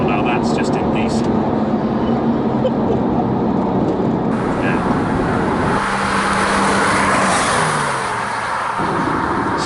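A 480bhp Porsche 911 997 Turbo Gen 1.5 accelerates hard at full throttle on an open road, its engine note climbing steadily and loudly from inside the cabin while a voice talks over it.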